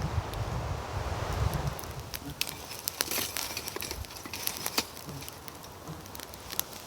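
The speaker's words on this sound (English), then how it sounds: "cool wind coming off the lake is definitely chilly" A cool breeze blows in off a lake at a hammock campsite. It makes a steady gusting rush with rustling and light crackling patter, and buffets the microphone at times. Low, broad and constant.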